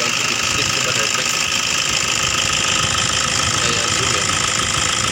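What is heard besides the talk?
diesel engine idling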